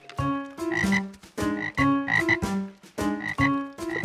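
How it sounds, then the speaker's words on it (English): Frogs croak in a loud, rhythmic run of throaty calls, repeating steadily in close bursts with no talk. "Frogs."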